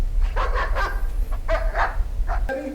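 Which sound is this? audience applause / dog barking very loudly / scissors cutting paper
dog barking very loudly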